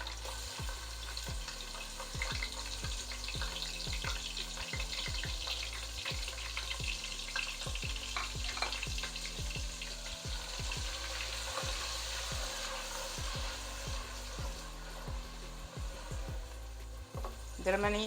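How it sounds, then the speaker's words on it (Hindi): Chopped onions frying in oil in a pan over medium heat for an aloo anday salan curry, a steady sizzle running throughout with occasional stirring scrapes and clinks, close and fairly loud, no talking. "प्याज़ों को थोड़ा सा फ्राई करेंगे।"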